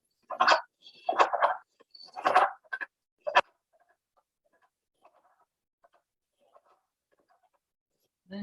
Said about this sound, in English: then we'll start hearing the wood frog.